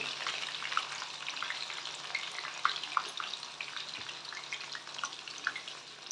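Avare bele (field bean lentils) frying in hot oil over a medium flame make a soft, steady crackling sizzle with scattered tiny pops, fairly faint and continuous.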